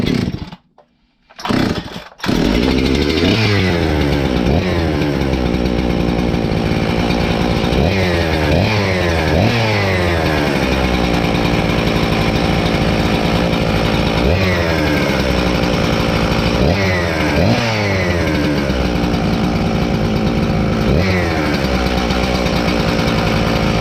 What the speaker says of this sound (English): See how she starts.